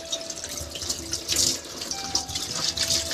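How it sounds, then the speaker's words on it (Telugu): Taro (chama) leaves are rinsed and rubbed under a running tap, giving a steady close splashing hiss with shifting gurgles as the flow hits the leaves, and no one speaks. "మనము ఆకును ఇలా నీట్ గా కడుక్కోవాలి"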